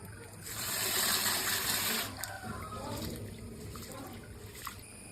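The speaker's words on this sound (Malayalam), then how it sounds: "അടുത്തതായി നമുക്ക് അതിലേക്ക് ആവശ്യമായ അരി കഴുകി വൃത്തിയാക്കി വറുത്തെടുക്കാം." Rice being washed in water for ellu unda: a close rushing, trickling pour that swells early then settles into softer sloshing and dribbling, with a small splash near the end.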